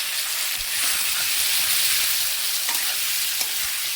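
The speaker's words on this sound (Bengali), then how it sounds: "একটু হলুদের গুঁড়োটা দিয়ে ভালো করে তরকারিটা নেড়ে চেড়ে নিচ্ছি বন্ধুরা।" A curry of fish with bhot kochu is stirred in a pan after turmeric powder goes in, producing a steady, loud, close sizzling hiss with occasional light scrapes of the spoon, with no talking.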